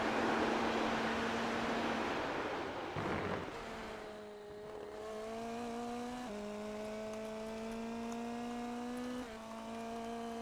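An Indy NXT race car hot lapping around Road Atlanta in a racing video game, its engine a steady sustained drone that shifts pitch in stepped jumps as gears change, heard alone without talk.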